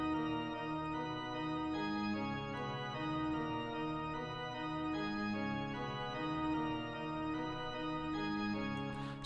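A produced black metal rage beat drenched in reverb, delay and saturation plays as a continuous, dense wash of sustained distorted harmonic tones with a steady pulse, with no voices over it.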